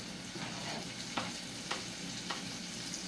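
Butter sizzles and crackles steadily in a hot pan, with a few soft scraping stirs punctuating the quiet hiss.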